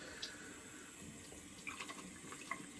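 Water runs steadily from a tap while a shaving brush is rinsed under it, a faint, soft hiss with a few small splashes and clinks, no voices.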